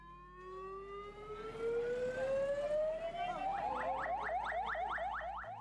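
An ambulance siren wails in a long rising sweep, then breaks into a rapid repeating yelp, loud and continuous with no talking, in Galle, Sri Lanka.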